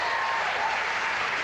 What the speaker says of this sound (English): They applaud like they had a piece of it.